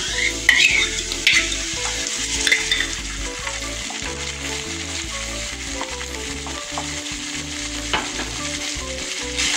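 Onions fry with ginger garlic paste and a green chilli for a Bengali rohu fish curry, a steady loud sizzle with occasional stirring scrapes in the pan, no talk.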